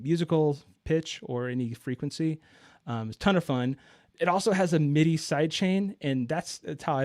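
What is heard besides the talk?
No everyday noise stands out behind the speech.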